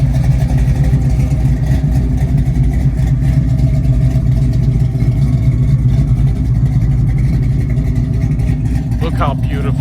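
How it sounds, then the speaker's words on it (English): A 1967 Chevrolet Chevelle in brand-new condition runs its exhaust outdoors, a loud, close, deep rumble that holds steady throughout with slight rises in engine pitch and no talking over it. "I want you guys to hear the exhaust."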